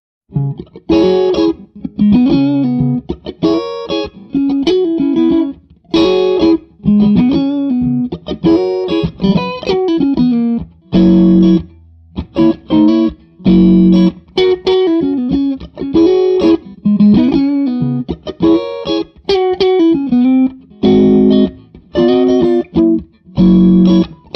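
Distorted electric guitar played through a 65 Amps amp with the master volume engaged, at modest volume, choppy chords and riffs with short pauses, no voices.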